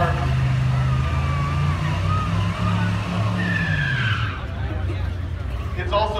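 Chevelle drag racing at a zip-tie drags event in Gateway, a loud engine note sweeping up and then cutting off, with a commentator talking over it.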